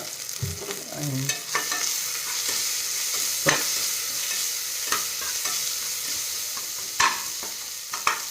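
Sliced onions, salted, fry and sizzle in a pan for an upma biryani, a steady broadband hiss with occasional sharp scrapes and clinks of stirring, close and fairly loud with no voices.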